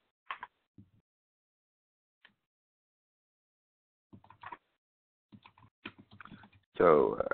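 Computer keyboard keys clicking nearby in short, scattered bursts separated by pauses, ending in a quick, dense flurry of keystrokes.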